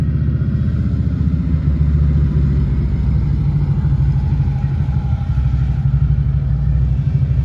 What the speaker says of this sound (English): There's always a lot of bikes up in this area.